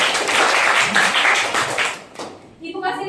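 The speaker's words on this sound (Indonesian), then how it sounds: "Kita kasih aplaus dulu buat Andika." A classroom of students claps for a classmate, a dense broadband patter lasting about two seconds before thinning out, followed by a voice speaking.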